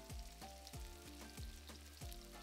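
Chopped ingredients frying in hot oil with whole spices for keema matar aloo, a faint steady sizzle broken by regular scraping stirs about every third of a second.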